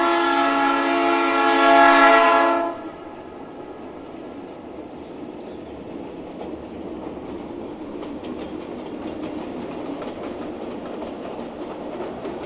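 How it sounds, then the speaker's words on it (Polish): A train horn blares for a few seconds, then the steady rumble and rhythmic clatter of a passing train on the tracks carries on, in a mountain valley on the line from Cusco to Machu Picchu, Peru. "jedzie pociąg właśnie z Cusco w stronę Machu Picchu"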